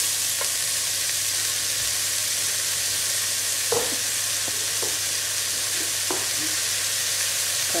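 Onions with rock salt sauté in a pan for king fish biryani, a steady close sizzle broken by a few scraping stirs of the spoon.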